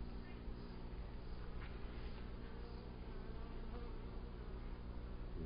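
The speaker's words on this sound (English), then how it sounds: "They're big bees." Big honeybees buzz around an open hive full of brood and larvae, a dense, steady droning swarm close by with a few louder passes, while a person talks softly over it.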